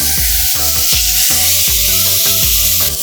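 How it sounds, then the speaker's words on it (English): Steady, loud sizzling of shark fish frying in a hot pan, with a bright hiss throughout and a repeating musical pattern underneath. "Oh, hear the sizzle"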